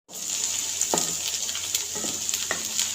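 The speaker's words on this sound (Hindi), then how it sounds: "तो ये ऐड कर देंगे हम इसके अंदर, ऑयल के अंदर। तो इसको हम लाइट ब्राउन होने तक फ्राई करेंगे।" Chopped onion frying in oil, a steady close sizzle punctuated by a few light spoon scrapes and stirs, with no talking over it.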